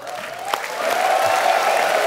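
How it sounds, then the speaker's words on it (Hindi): A studio audience at a comedy show breaks into applause, a steady wash of clapping that builds and holds loud after a single sharp clap near the start. "सुनील पाजी के लिए जोरदार तालियां"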